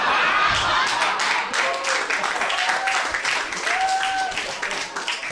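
A comedy club audience claps and cheers after a stand-up joke about Russia, a dense, steady wash of applause with scattered whoops that holds for several seconds.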